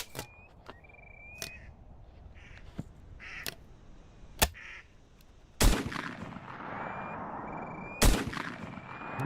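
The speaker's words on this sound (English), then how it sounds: "I'm seeing some bad shooting right now" Shotgun shots fired at ducks during a spring duck hunt, several sharp, loud blasts spaced a few seconds apart, with ducks quacking and crows cawing in the background and no talking.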